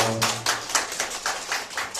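Children applaud together in a quick, steady run of claps at a New Year's party in a kindergarten group, fairly close and lively, with no talking over it.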